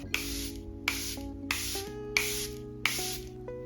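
Five short hissing bursts of Charlotte Tilbury Airbrush Flawless Setting Spray at a steady pace, close up and fairly quiet, over a low constant background hum.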